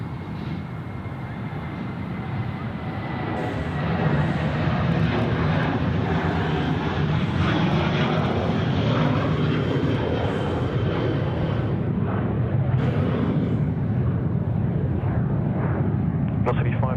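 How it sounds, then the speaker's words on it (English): Airliner departing Sydney Airport on runway 34 left, a steady loud jet engine roar building after a few seconds and holding throughout, with air traffic control and commentary voices faintly over it. "line up runway 34 left and wait"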